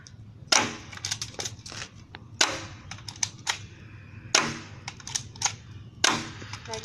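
A Double Eagle airsoft pistol firing, four sharp snapping shots spaced about two seconds apart, each followed by quick clattering ticks of BBs ricocheting, close and clear.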